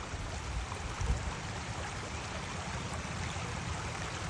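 Shallow creek water flowing over rocks in a park, a steady broadband rushing and trickling that stays even throughout, with no voices.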